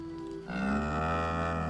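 An ox in the video game Baldur's Gate 3 lets out a single long, low moo that swells after a brief quiet lead-in and holds steady, heard alone with no talk.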